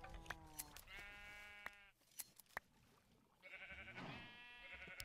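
Minecraft sheep bleat in a game world, two distinct wavering bleats separated by a short pause of faint background, fairly quiet and alone.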